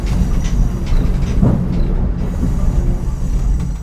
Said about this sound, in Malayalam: ഡീസൽ ലോക്കോമോട്ടീവ് എന്ന പേരേ ഉള്ളൂ. ഈ ട്രെയിനും ഇലക്ട്രിക് മോട്ടോറിലാണ് പ്രവർത്തിക്കുന്നത്.